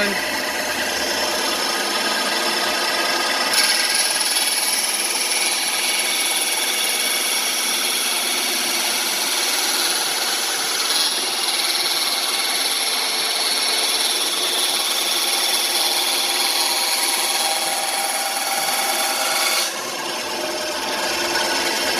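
A bandsaw cuts through wood with a steady, loud, continuous broadband rasp that stays even for about twenty seconds. The pitch shifts slightly as the blade goes into the work and comes out of it.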